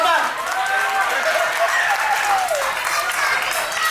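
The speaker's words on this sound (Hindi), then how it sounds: "आओ तालियां जोरदार बजाइए भाई," Loud, steady applause from an audience at a first birthday celebration, a dense wash of clapping that holds for about four seconds, with voices and cheers mixed in.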